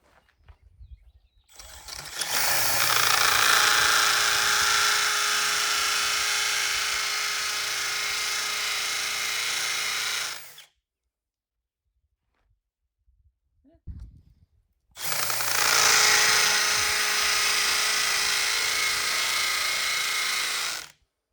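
A power drill bores deep holes with a long bit into the understructure of a mountain modern home build, two loud sustained whining runs of about eight and six seconds, split by a quiet pause.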